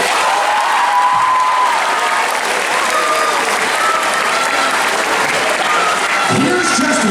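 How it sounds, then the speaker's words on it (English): A school gym crowd at an Activity Day gives loud, dense, steady applause that holds for the full stretch, with some voices mixed in. "let's give them a big round of applause"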